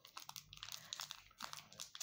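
Crinkling and crunching of a bourbon biscuit packet's paper wrapper being handled, close and quiet, in irregular bursts of rustling with brief pauses.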